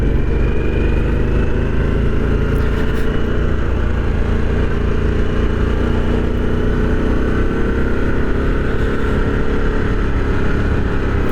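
Harley-Davidson Sportster 1250cc motorcycle being ridden, a loud continuous engine rumble with wind roar at steady cruising speed throughout, without speech.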